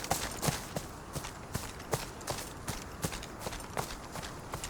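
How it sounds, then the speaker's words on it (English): Video game foley of footsteps layered with the rattle of shotgun parts, a regular walking rhythm of soft thuds, each step carrying a small metallic jostle, moderately close over a noisy background. "As I walk, we can now hear parts of the weapon moving, layered on top of the footsteps."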